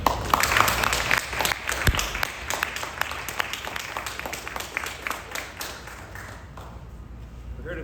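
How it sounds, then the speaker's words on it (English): Applause from a crowd at a police accountability press conference, honoring the law enforcement officers standing behind the podium; scattered sharp claps fill the room steadily before thinning out toward the end. "Give them a round of applause"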